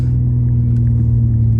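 A BMW M2 Competition idles with a deep, steady exhaust rumble, close and loud, a constant low drone that holds without revving for under two seconds.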